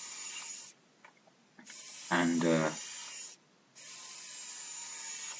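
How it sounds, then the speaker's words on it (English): A power drill bores holes in 3x2 CLS timber for the top frame of a simple wooden step stool, with bursts of rough grinding noise and a short whining motor stretch broken up by pauses. "I'm just drilling out some drill holes to make a sort of box frame."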